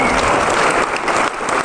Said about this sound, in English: Maybe everyone want to give him a clap.